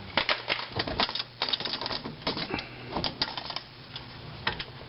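Four 10 mm bolts come out of a Corvette's middle air dam with a fast run of clicking ratchet ticks, close and fairly loud, broken by short pauses as the tool moves from bolt to bolt.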